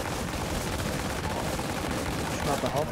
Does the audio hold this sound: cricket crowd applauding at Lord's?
no